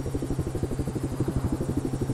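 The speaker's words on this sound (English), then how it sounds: "I like how fast this helicopter is." Helicopter in the video game Just Cause 3, a steady fast rotor chop with regular pulsing beats and a low engine drone, loud and close throughout.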